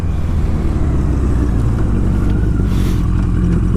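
Old motorcycle engine running during a test drive, a steady, loud, throbbing low rumble with a rough, even pulse throughout and no change in pace, heard up close with no voices.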